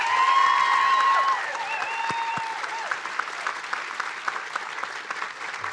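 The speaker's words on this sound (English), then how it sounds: "can I get another round of applause for the faculty," A commencement crowd gives a sustained round of applause for faculty, staff and administration, steady and loud at first, then settling into a slightly softer, continuous clapping throughout.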